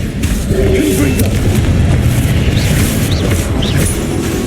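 Confringo blasting spell from the game Hogwarts Legacy, a steady rumbling blast with crackling debris that sustains loudly throughout, a voice speaking faintly underneath.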